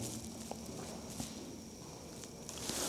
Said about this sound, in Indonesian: Ada suara langkah kaki loh guys.